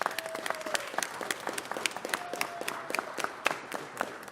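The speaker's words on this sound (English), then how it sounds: "Let's give him a round of applause for that." Audience applause in a Los Angeles city council chamber, a thin, moderately sparse patter of individual claps heard somewhat quietly and without talk.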